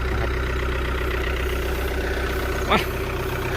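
An Isuzu KS110 truck engine idling, a loud, steady low rumble that continues unchanged throughout, with one brief higher squeak near the end and no talk.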